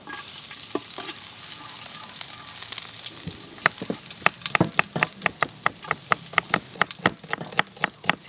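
Ginger and garlic sizzle steadily in hot cooking oil for pork belly kinamatisang, a broad frying hiss joined halfway through by a run of sharp, regular utensil clicks as the pan is stirred, close and fairly loud.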